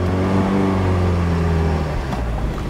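A Mazda Miata engine running roughly and revving, a loud, steady, uneven drone close by that wavers in pitch and dips slightly near the end.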